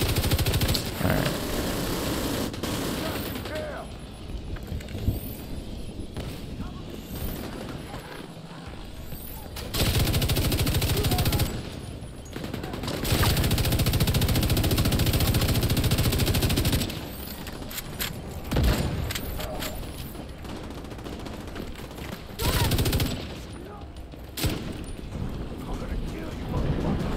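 Minigun fire in The Division 2 shooter game, bursts of dense rapid gunfire stopping and starting among loud layered combat noise, with players talking over the action.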